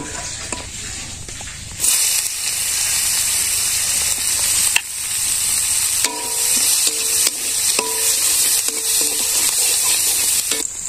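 Cinnamon sticks and cloves fry in a pan in a village kitchen. A loud, steady hissing sizzle starts abruptly after a short quiet stretch and carries on close by, broken by a few light clinks and stirring sounds.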